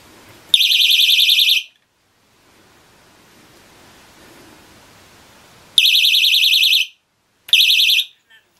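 A cheap 5V piezo buzzer meant for an FPV racing quadcopter gives piercing, very loud high-pitched beeps: one long burst, a quiet gap, then two more bursts.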